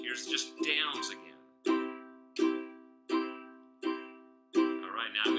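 Ukulele strummed with down strokes only, six even chords ringing out one after another at a steady pace, close and clear, with no voice over them.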